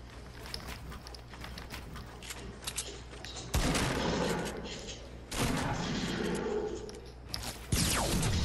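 Gunfire from a video game shooter comes in bursts of rapid shots, with several loud, dense volleys and quieter scattered fire between them.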